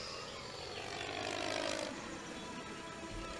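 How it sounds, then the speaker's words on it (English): A propeller plane flies overhead in a scene from the TV drama Lost, set on an island. Its steady engine drone fills the scene, swelling as it passes nearest, then holding on with no talk. "A plane! Did you see that?"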